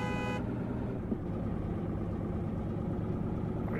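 A truck engine idles in the mobile driving game Truck Simulator Ultimate, a steady low hum held at a constant level throughout with no talking.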